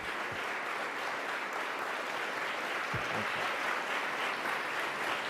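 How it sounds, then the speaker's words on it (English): Steady, even applause fills a room as an audience greets a government official arriving to speak, a dense unbroken patter of many hands at moderate distance. "You clap because I'm your boss."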